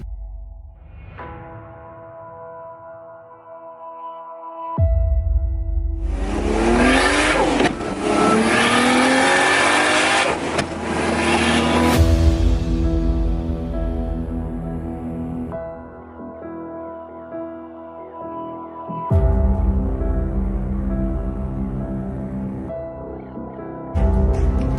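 A JDM Toyota Supra MkIV engine revs hard with rising, roaring pulls, then settles into a throaty idle before another loud rev near the end, close and without talk.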